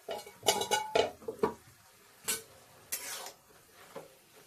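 A metal lid comes off a pot of cooking cabbage and potatoes with a few quiet clanks and clinks. Faint bursts of steam and simmering follow, with no talking.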